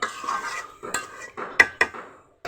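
A metal spoon stirring goat meat in a cooking pot, close scraping and sharp clinks against the pot in uneven strokes, with a brief pause near the end.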